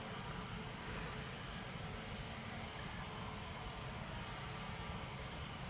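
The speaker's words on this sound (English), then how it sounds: "The A320neo 2 Palma de Mallorca just took off from runway 24" easyJet Airbus A320neo taking off from runway 24 at Amsterdam Schiphol, heard as a faint, steady, distant jet roar with broad rumble and no voices.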